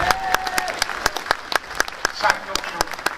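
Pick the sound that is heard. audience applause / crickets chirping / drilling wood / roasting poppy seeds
audience applause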